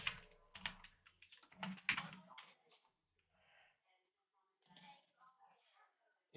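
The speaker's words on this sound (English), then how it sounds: "We'll just type it in." Computer keyboard typing for a TryHackMe cybersecurity challenge, bursts of close clicking keystrokes at the start, then quieter scattered taps with a person talking in between.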